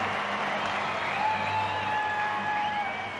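A stadium crowd roars throughout at a men's rugby sevens tournament in Perth, a loud, sustained wash of cheering with whistle-like tones rising above it and a commentator's voice running underneath.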